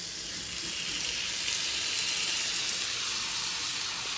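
Plums sizzle in a frying pan with margarine and sugar, a steady, close, hissing fry that holds evenly throughout with no talking.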